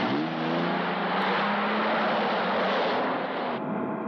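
A car drives at speed in a 1984 action film chase, its engine a steady, loud, broad roar with rising revs and a rushing wind-like hiss throughout, no voices.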